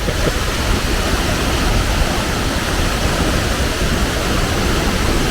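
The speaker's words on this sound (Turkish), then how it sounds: "Yunanistan Edessa şehrine bağlı Edessa şelalesindeyiz şu anda" Edessa waterfall in Greece roars as a steady, loud, broadband rush of falling water, continuous and unbroken with no voices.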